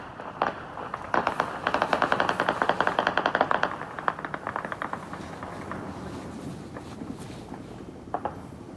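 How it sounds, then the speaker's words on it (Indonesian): Celebratory gunfire rings out over Beirut at night, long rapid bursts of cracking shots in quick succession, then scattered single pops as the firing thins out, heard from some distance. "Tembakan bertubi-tubi terlihat di langit kota Beirut pada Kamis malam waktu setempat."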